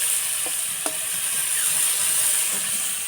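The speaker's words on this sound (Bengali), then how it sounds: "চিংড়ি মাছ ভাজা" Prawns frying in hot oil, a steady bright hiss of sizzling with a few faint clinks and crackles, close and continuous without any voices.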